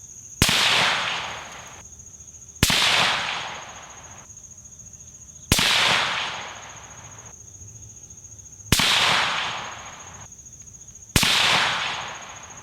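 Five suppressed rifle shots spaced about two seconds apart, fired through a Surefire SOCOM Mini 2 suppressor on a 100-yard range, each a sharp loud crack followed by a short fading tail, with no talking.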